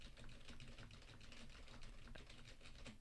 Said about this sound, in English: this is an old school HP mechanical keyboard, and it's one of the loudest out there